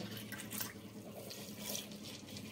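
Water is poured from a bowl into a pot of rice flour, a soft, steady splashing stream that runs continuously without pause.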